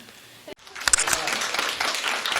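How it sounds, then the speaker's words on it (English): Audience at a 4-H public speaking contest breaking into a round of applause after a brief pause, dense clapping and cheering rising quickly and holding steady to the end. "round of applause"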